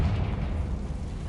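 Hogwarts Legacy's Confringo spell sets off a deep, booming explosion up close, loud and rumbling, with no voices over it.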